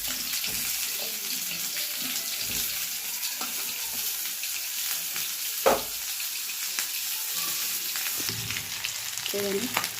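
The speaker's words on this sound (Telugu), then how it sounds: "ఇందులోకి మళ్ళీ కొద్దిగా ఆయిల్ వేసి ఆనియన్స్ వేసుకోవాలి" Onions frying in a little oil in a pan (a kadai) for groundnut onion pachadi: a steady, bright sizzle throughout, with occasional clinks and scrapes of a utensil and no one talking.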